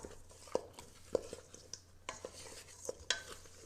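Oiled, dry-spiced oxtail being mixed by hand or spoon in a bowl, with soft wet squelches and a few sharp clinks of a utensil against the dish, fairly quiet and close, without talk.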